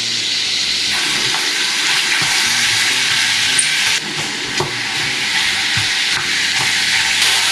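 Oil sizzles loudly and continuously in a hot pan as onions go in for roasted potatoes with caramelized onions, a close, steady frying hiss with a few faint clinks.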